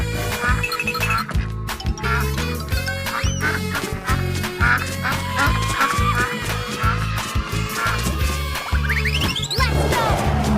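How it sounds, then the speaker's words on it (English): Duck quacking in a cartoon for children, repeated quacks mixed with lively music and squeaky sound effects, ending in a rising whistle-like sweep. "Duck."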